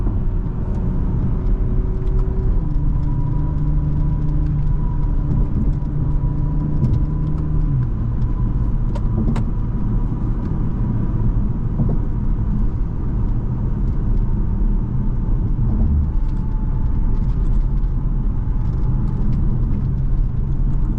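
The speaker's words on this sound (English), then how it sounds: "That exhaust sounds amazing" A 2020 Toyota Supra 3.0 driven on the road gives a continuous engine and exhaust drone that rises and shifts in pitch through gear changes, with a steady low rumble of road noise and no talking.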